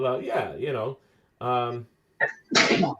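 A single sharp sneeze bursts out at the end, loud and close, right after a person speaks briefly in a casual conversation.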